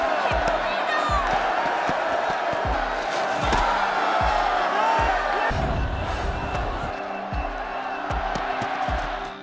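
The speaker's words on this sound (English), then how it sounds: "The crowd below would cheer" A frenzied crowd cheers and roars at a brutal Mayan sacrificial ritual in a movie, loud massed voices whooping over heavy pounding drumbeats in a steady rhythm, sustained throughout.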